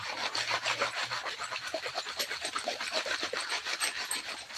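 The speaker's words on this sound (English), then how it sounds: "Got some glass. You can hear that." Small bits of glass grind and scrape against gravel in a gold pan as it is swirled and shaken, a continuous close gritty rasp with a rolling rhythm and no talk.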